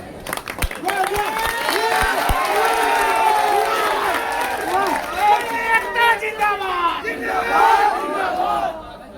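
A rally crowd at a railway-blockade gathering shouts and cheers loudly in rising and falling waves, with scattered clapping mixed into the close, dense roar of many voices.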